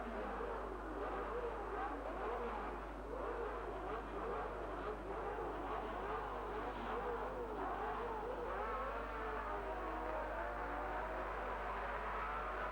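1961 Ferrari race cars pulling away from the starting grid at the Monza Grand Prix, a dense, continuous engine roar that rises and falls as several cars accelerate together, heard at a distance with no talking.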